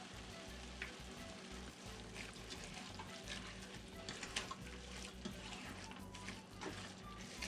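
Meat, onions, salt, pepper, cumin and chile paste frying together in a pan for Peruvian carapulcra, a steady close sizzle running through without pause, with faint clinks of utensils.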